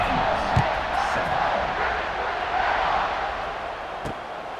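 A packed stadium crowd in a college football video game roars in a continuous, loud wash of cheering and whooping, with faint thumps underneath.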